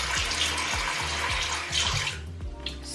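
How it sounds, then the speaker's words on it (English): Water runs steadily from a tap into a sink while someone washes their face, a close, continuous splashing hiss that thins out toward the end. "I'm actually gonna get started and wash my face"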